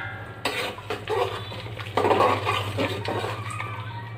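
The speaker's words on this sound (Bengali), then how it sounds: "আমি একটু নেড়ে নিচ্ছি।" Mutton fry cooked without oil being stirred in a covered pot over a low gas flame, a few scraping and clattering stirs against the metal with faint sizzling beneath a steady low hum.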